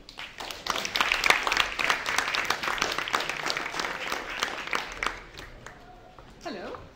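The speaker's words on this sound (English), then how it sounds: "now let's have a warm round of applause for Simone" Audience applause at a talk on the future of a stock exchange, a warm burst of clapping from a seated crowd that tapers off as a speaker begins talking.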